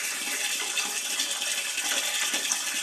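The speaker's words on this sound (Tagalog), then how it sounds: "Ang bilis ang lakas ng tubig talaga." Steady, forceful water gushing nonstop into a container, a loud hissing splash close by with no voices.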